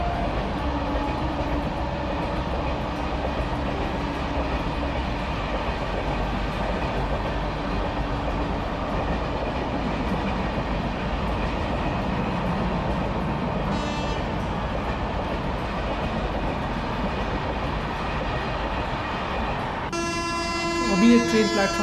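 A train rumbles steadily through a railway station platform at close range, a long continuous roar of wheels and cars, with a horn sounding briefly near the end.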